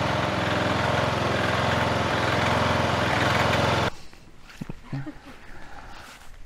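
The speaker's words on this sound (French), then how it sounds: "maintenant ce tracteur tondeuse est tout à fait opérationnel" A Stiga riding lawn mower engine runs steadily and loudly, then cuts off abruptly, leaving quieter rustling and faint voices on a farm.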